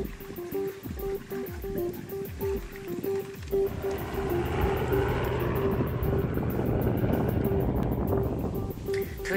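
Helicopter flying overhead a frozen winter campsite, a loud rotor and engine drone that swells and grows fuller over several seconds as it passes, with wind noise and no talking.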